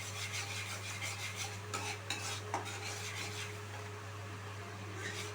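An onion and tomato paste fries in oil while a utensil stirs and scrapes the pan, making soft rhythmic rasping strokes and faint sizzling over a low steady hum.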